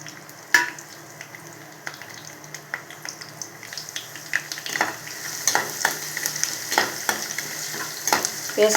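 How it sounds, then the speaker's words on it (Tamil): Crushed garlic sizzles and crackles in hot oil for a taro root (seppankizhangu) fry, with steady frying hiss and scattered sharp pops and spoon scrapes that grow busier toward the end, close up with no talking. "எண்ணெய் காயவும் தட்டி வச்ச பூண்டு சேர்த்துக்கிடலாம்."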